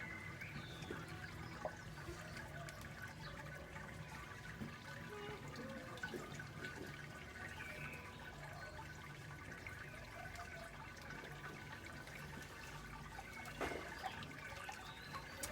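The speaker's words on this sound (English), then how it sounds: "And just gently pour it over the top. And this will wash the remaining sugars out of the grains" Sparge water is poured gently over the grain bed in a Brewzilla 35 during an all-grain IPA brew, making a soft, continuous trickle and splash at low level for the whole stretch, with no talking.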